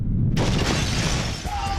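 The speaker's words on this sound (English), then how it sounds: "that's when the vessel decides to rupture" A pressure vessel ruptures explosively, a loud burst that tears in abruptly after a brief quiet opening and rolls on as a dense, roaring blast of noise for over a second.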